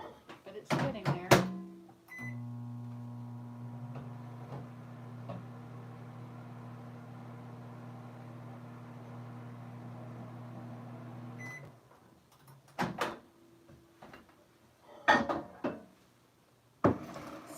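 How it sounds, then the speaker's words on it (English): Microwave oven running steadily with a low electrical hum for about nine seconds, framed by door clunks, beeps and kitchen handling noises at the start and end, with people talking briefly. "So when you open your microwave, you should give it time"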